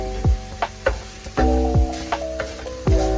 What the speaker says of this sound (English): the bacon's getting cooked by itself